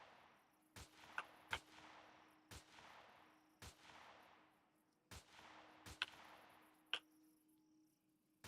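Gunfire in the Empyrion Galactic Survival game, Reforged Eden 2: sharp single shots, about seven spaced unevenly over several seconds, each followed by a decaying rumble tail, over a steady low hum with no talk.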